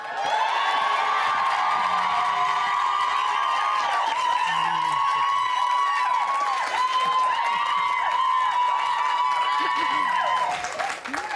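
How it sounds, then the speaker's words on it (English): A large studio audience at a reality TV series final applauds and cheers continuously, with whoops and shouts rising over dense clapping throughout. "a huge round of applause for our third-placed housemate"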